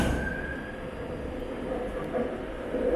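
A metro train in Kuala Lumpur rumbles close by in a steady, continuous roar, with a faint high whine from the wheels and no speech.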